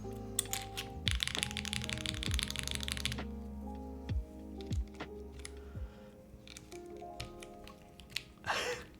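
Keys tapped on RAR keycaps fitted to an ORI CLS-3//88 mechanical keyboard build: sharp, scattered clicks and clacks, faint and up close, with a short rattling stretch and a few low thuds.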